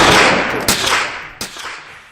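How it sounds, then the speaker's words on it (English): Two sharp rifle shots about three-quarters of a second apart, each a sudden loud crack with a short tail, over steady outdoor wind noise. "Shooting this rifle"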